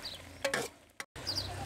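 Green chillies being stirred into cucumber curry in a pan, giving soft scraping and a gentle sizzle with a couple of brief clinks, quiet and close.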